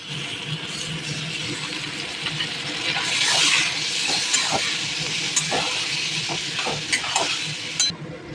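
Ground spice paste sizzles and hisses loudly as it hits potatoes frying in a pan, for a fish-roe fritter curry, with repeated clattering stirs against the pan and no talking.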